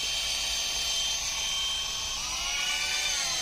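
A power drill bores into PE polyethylene pipe, giving a steady, loud, high-pitched whine that holds without break throughout, with no voices.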